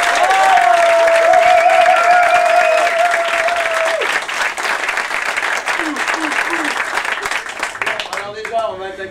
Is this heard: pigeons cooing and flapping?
no